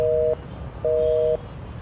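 Busy tone on a mobile call that will not connect: two clean steady beeps, each about half a second, separated by a short gap, alone and fairly loud.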